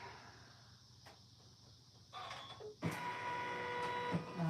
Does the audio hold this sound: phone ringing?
no